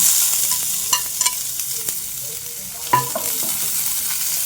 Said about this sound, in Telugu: ఇప్పుడు కట్ చేసి పెట్టుకున్న ఉల్లిపాయ ముక్కలు వేస్తున్నాను